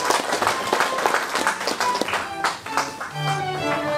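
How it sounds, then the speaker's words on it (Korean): An audience at a peace award ceremony applauds, a dense spread of clapping from a seated crowd filling the hall, with a brief dip before the clapping carries on. "축하의 박수 보내주십시오."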